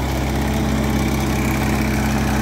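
A 1948 Allis-Chalmers G tractor idles nearby with a steady, even engine drone, the low chugging constant and unbroken throughout, with no voices.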